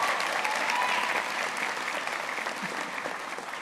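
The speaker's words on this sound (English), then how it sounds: "Clap for yourselves." Steady, dense applause from a commencement audience at a graduation ceremony, filling the space evenly and fading slightly toward the end, with no voices standing out.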